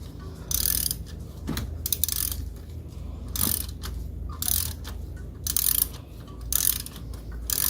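A ratchet turning a loose spark plug out of a 2011 Ford Fiesta engine: repeated bursts of fast, close metallic clicking from the pawl, separated by short pauses, with no talking.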